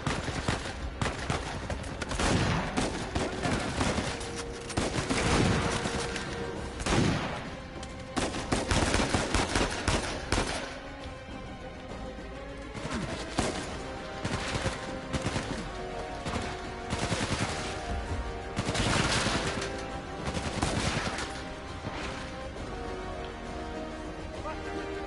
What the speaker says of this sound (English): This shotgun is doing work.